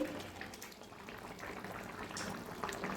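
Papaya pieces boiling in a pot of water, a continuous faint bubbling and gurgling at moderate distance with no voices.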